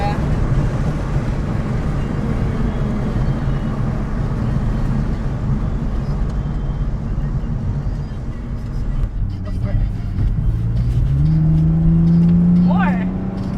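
A Lexus IS300 accelerating hard on a smooth street gives a steady engine drone heard from inside the car, with the pitch climbing distinctly toward the end.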